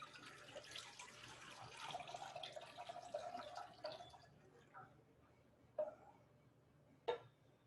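Room-temperature tap water runs into a container for pickle liquid, a faint steady stream for about four seconds, then stops, followed by a couple of brief clinks and drips.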